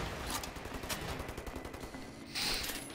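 Rifle fire from the shooter game Wolfenstein The New Order cracks out in quick, repeated bursts of shots over a dense, noisy background of combat.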